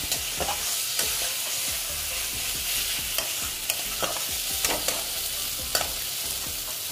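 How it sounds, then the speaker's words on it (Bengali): Fried potatoes stirred into egg curry masala in a pan, a continuous close sizzle broken by frequent scraping taps of the spatula, no talking. "আলুগুলো যে ভেজে রেখেছিলাম আলুগুলো দিয়ে দিচ্ছি। দিয়ে ভালো মতো কষিয়ে নিচ্ছি।"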